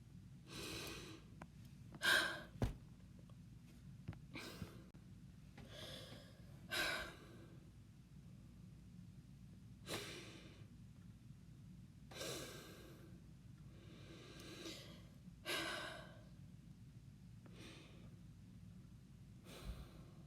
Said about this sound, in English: Sorry, I'm breathing right now